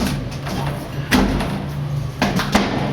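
Gentle taps and dull thuds as a metal guardrail section on a lighthouse is knocked into its groove, a few distinct hits over a steady hum.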